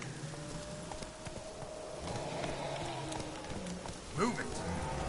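Roach's hooves clip-clop at a steady trot in The Witcher 3 video game, soft and fairly distant beneath rain-like ambience, with a voice speaking over them.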